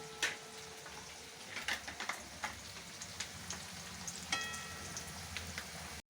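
Chopped onion sautés in oil in a pan, giving a soft, quiet sizzle with irregular small crackles and ticks and no talking.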